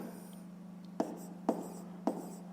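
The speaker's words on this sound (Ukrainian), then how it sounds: "Ну що ж, записуємо, що це буде 7300 сотих плюс 8 сотих." Pen or chalk writing numbers during a fifth-grade math exercise: three short, crisp scratching strokes spaced about half a second apart, close and clear over a low steady hum.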